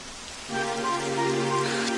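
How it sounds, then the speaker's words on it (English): Rain starting in the Dragon Quest 11 video game, a soft hiss that suddenly rises into a steady, even downpour with faint tonal music underneath, no talk. "It would have to go and start raining, wouldn't it?"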